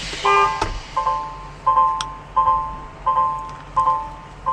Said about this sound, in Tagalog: Just your city horn, please.